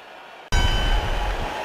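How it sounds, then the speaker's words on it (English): A ring bell sounds the start of an Elimination Chamber match in the WWE 11 video game: one sudden metallic clang that rings on as a sustained tone over loud arena noise. "there's the bell signifying the start of this Elimination Chamber matchup"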